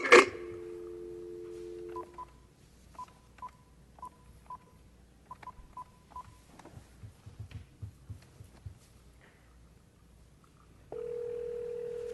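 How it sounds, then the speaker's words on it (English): A telephone being dialed to call through to a speakerphone at a city council meeting: a short tone opens, then a string of separate keypad beeps in irregular bursts, followed by a steady ringback or dial tone near the end. "Lewis, I'm going to call you on the telephone here, and we're just going to put you on speakerphone on this phone real fast"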